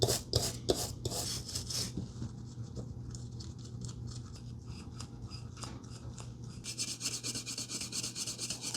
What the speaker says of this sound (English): Now that I rubbed the serial number off